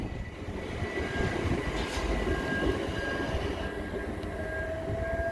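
A Class 377 passenger train pulls out of Chichester station, with a steady rumble of wheels on rails, a faint squeal, and a rising electric whine at a middle distance.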